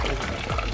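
Fresh spring water splashes and gurgles briefly as it is poured into a container outdoors in the Seychelles. The pour is short and fairly quiet against faint background noise.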